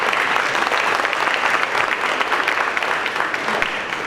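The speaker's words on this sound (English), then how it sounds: "Can we have a round of applause for BGE?" An outdoor Shakespeare-in-the-park audience gives a round of applause for a sponsor, a loud, dense, continuous clapping lasting the full four seconds without speech.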